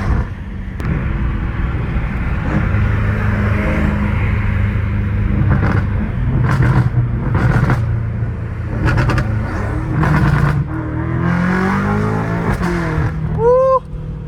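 Straight-piped 650 hp BMW M5 Competition with a V8, a loud, close, deep engine rumble that swells through repeated revs and throttle blips, sustained over fourteen seconds with brief sharp pops near the end.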